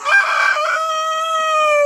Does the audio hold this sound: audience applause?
no